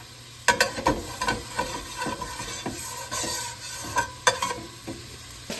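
Wine and meat cook down in a pot for a New Orleans brucciloni, a steady bubbling sizzle broken by stirring scrapes and clinks of a spoon against the pot.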